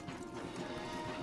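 Horses moving along a path in the Red Dead Redemption 2 game, with a short run of hoof clip-clops close by.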